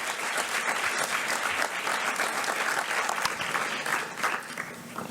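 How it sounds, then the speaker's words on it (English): A full audience at a high school academic awards ceremony breaks into steady, dense applause that holds at an even level for the whole stretch, with no voices standing out above it. "How about a big round of applause for Patty Easton?"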